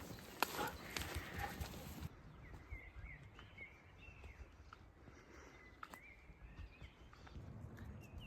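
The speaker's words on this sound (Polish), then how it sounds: "Ptaszki świerkają." Birds chirp faintly and intermittently in the Eifel forest, with short high calls scattered over a soft outdoor background after a louder rustling start.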